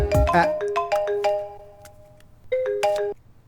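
A mobile phone ringtone plays a bright, bell-like melody of repeated electronic tones, starting after a brief rustle and returning for a second phrase.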